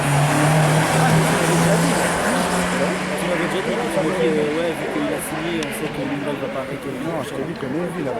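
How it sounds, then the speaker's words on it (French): A race car at a slalom event revs and pulls away at the start of its run, a steady engine drone rising and fading under a commentator's continuous talk. "avec le numéro 61 qui va s'élancer Bruce Barman"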